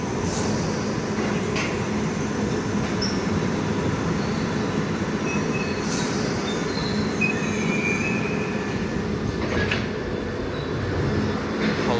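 A London Underground Piccadilly line train runs between stations with a loud, continuous rumble, rail roar and high wheel squeals throughout, heard from inside the carriage.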